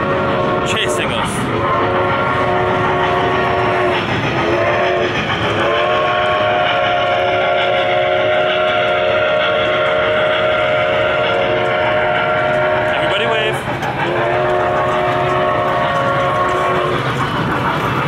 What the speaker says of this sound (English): Is that train chasing us?